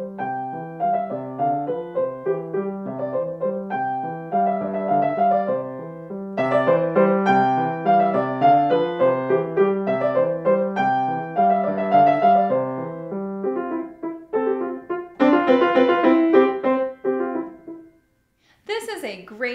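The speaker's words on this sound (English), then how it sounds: "Today we're talking about how to teach the Clementi Sonatina Op. 36, number 1, the third movement, Vivace." Solo piano plays the Clementi Sonatina Op. 36 No. 1, third movement Vivace, with quick, lively running notes and bright chords, loud and close, uninterrupted for most of its length before a brief pause near the end.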